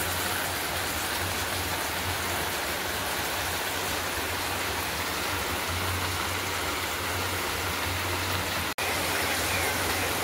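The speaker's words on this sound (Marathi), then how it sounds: "आणि बाहेर पाऊस आहे बघा" Steady rain falls outside during a sudden summer shower in Goa, a continuous dense hiss that lasts the whole stretch at an even level, with a brief dropout near the end and no talk.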